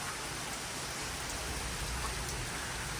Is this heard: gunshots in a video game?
no